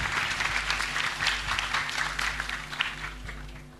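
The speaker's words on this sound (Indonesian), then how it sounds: "Silakan kita persilakan tepuk tangan untuk beliaunya, Mas Sabran." Audience applause at a talk event, a dense steady wash of many hands clapping throughout, with a low hum beneath and a slight fade toward the end.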